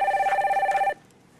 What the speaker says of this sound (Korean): 이번에는 전화 연결로 시청자님 직접 만나보도록 하겠습니다.